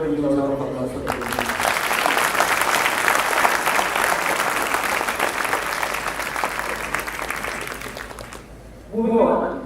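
Sustained applause from a start-up expo audience, a loud, even wash of many hands clapping for several seconds, then cutting off before a voice speaks at the end.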